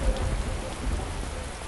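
Steady rain hisses evenly with a low rumble beneath in a fake GTA-style Android video game, a continuous downpour with no voices.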